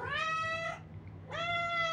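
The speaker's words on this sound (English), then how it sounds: "What's wrong, Kitty" A hungry cat meows twice, two long drawn-out calls separated by a short pause, close and clear against a low steady background hum.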